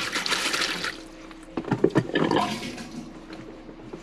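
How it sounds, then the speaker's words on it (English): An RV water pump runs with low water pressure while a GeoPro 19FBS travel trailer's water system is winterized, giving a gushing, flushing rush of water that dips and returns, heard alone. "I can hear that water pump working in the background because it's the water pressure is low"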